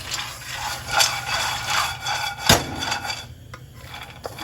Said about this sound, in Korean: 팬에 식용유 살짝만 둘러주고 땅콩하고 네, 캐슈넛을 볶아줄게요